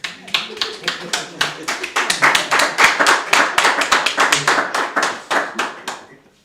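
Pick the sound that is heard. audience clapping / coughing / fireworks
audience clapping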